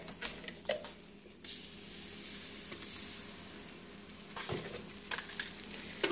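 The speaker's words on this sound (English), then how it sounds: "I'm gonna head back to my sauce and add some cream" Cream goes into a simmering Alfredo sauce in a pan, setting off a brighter hissing sizzle that settles into a low bubbling, with a few utensil clicks before and after.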